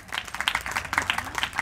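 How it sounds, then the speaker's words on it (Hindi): An audience at a spiritual discourse claps for a young girl, a brief burst of dense, lively applause from many hands, loud and close. "तालियां बजा दो बच्ची के लिए"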